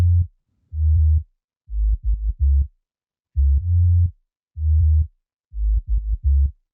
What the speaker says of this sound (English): we have the sub bass, which is just one sound that sounds like this